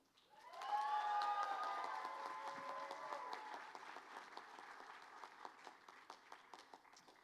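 Audience at a Class of 2024 GED graduation applauding a graduate, a swell of clapping and some cheering that peaks early and then thins into scattered claps over a steady crowd hum.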